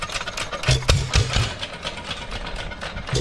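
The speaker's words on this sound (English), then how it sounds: "Go ahead and drink some coffee while the engine sits out here and runs." A mid-sized pump jack engine idles steadily outdoors, its low chugging pulses repeating in an uneven rhythm, fairly close and moderately loud.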